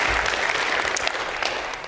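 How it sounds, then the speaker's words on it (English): Dense applause from a church congregation fills the space, a continuous wash of many hands clapping at close range without a break. "Yeah, you can clap for that."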